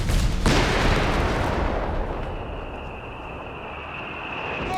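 Mortar fire in Company of Heroes 3, a heavy blast opening into a long rolling roar of battle noise, loud and dense, with a thin whine drifting over the din.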